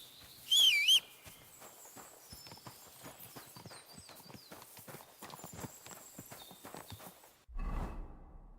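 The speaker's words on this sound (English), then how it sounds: "Come here, my horse." Horse hooves clip-clop in the video game Kingdom Come 2, a steady rapid run of close hoofbeats throughout, with a brief high whistle-like tone near the start and a low rumble at the end.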